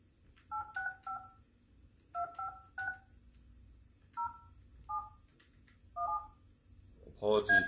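Telephone number dialed on a keypad, a string of separate DTMF beeps in short irregular clusters, fairly clear and close, ending in a louder tone burst.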